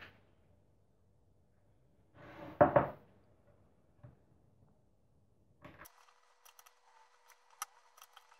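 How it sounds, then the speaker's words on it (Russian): A knife slices marmalade into small cubes for a simple three-ingredient cheese canapé appetizer. One soft, short cutting burst stands out in a quiet kitchen, followed by light scattered taps and clicks on the board, with no talking. "Дальше на такие же кубики порежем мармелад."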